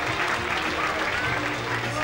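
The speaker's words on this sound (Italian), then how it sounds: "Quindi ringraziamo e facciamo un applauso allo sponsor ufficiale Bernardo di Villanova." Audience at a 1999 beauty pageant evening clapping, a short, steady burst of applause with a voice talking over it.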